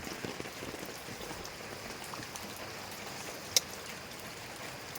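Rain falls steadily as an even, soft hiss of drops on a surface, with one sharp click standing out near the end.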